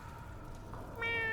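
A single short cat meow from the video game Mewgenics, fairly clear and close, rising briefly after a moment of quiet background noise.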